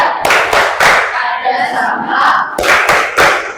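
A school class claps hands together in a patterned classroom clap routine, loud and close, with sharp grouped bursts and a voice chanting along in between.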